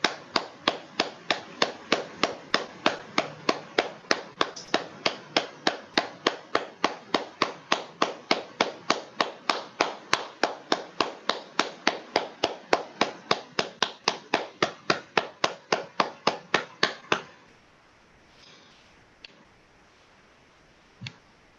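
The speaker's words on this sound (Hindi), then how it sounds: "ताली बजाएंगे।" A group claps hands in a fast, steady unison rhythm, many sharp even claps in a row, then stops abruptly into near-silence with one faint later tap.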